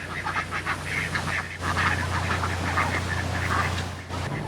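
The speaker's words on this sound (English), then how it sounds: "Could hear some ducks." Ducks quack repeatedly beside a canal near moored narrowboats, their calls clear and fairly close. A low steady engine hum runs underneath and there is no talk.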